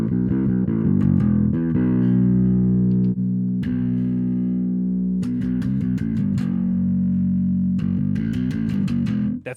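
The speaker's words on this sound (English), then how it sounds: "That's the tone knob for the distortion, obviously." A bass guitar plays heavily distorted notes through a Darkglass Infinity effects unit, grinding sustained tones broken by short plucked runs, loud and close with no talking.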